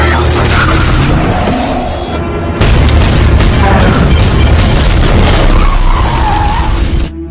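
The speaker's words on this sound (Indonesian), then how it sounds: "Namun tiba-tiba saja kepala Arlon meledak." A loud burst of crashing, shattering noise sounds as a head explodes in a film, followed after a brief shift by a dense, rumbling explosion-like roar that continues for several seconds.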